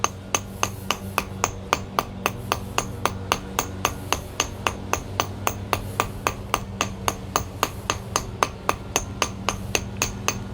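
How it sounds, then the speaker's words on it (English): A tooth hammer texturing a carved stone relief sculpture strikes in steady, evenly spaced sharp taps, roughly three per second, close and clear, over a low background hum with no talking. "So you can see how that tooth hammer just makes this great even texture."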